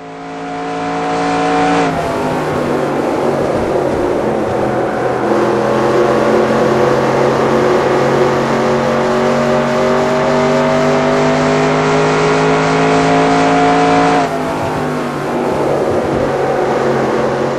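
A race car engine held at full throttle in the NR2002 racing game at Rockingham, a loud, steady, high-pitched drone that drops briefly between gear changes near the start and end.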